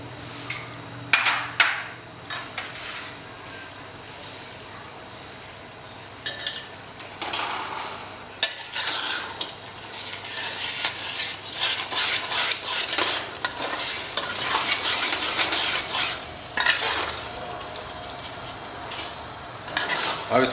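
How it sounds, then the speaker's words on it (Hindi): Tomato masala with chilli and garlic-ginger paste for dhaba-style chicken curry is stirred and fried in a pan, with steady sizzling under repeated scraping and clattering strokes of a spoon against the metal. "इसे अच्छा बढ़िया भुनेंगे लगभग 8-10 मिनट तक"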